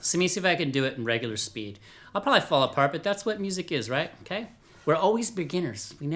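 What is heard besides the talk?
No distinct noise like a dog, phone or traffic.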